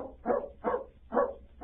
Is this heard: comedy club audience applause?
no